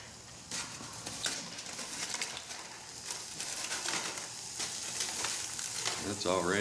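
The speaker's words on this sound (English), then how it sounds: "It's already sizzling really well." Burgers sizzle on a camp cooking set over a DIY stainless steel wood gas pellet stove, a loud steady crackling fry with frequent sharp pops, continuous and close, with a brief tonal squeak near the end.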